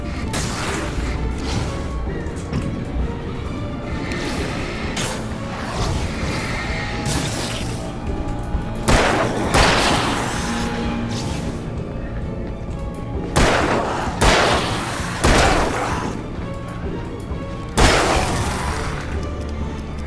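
Gunfire and heavy explosive bangs from the action horror video game Alan Wake come in bursts among clattering, crashing impacts and a constant rumbling game soundtrack, loud and dense throughout.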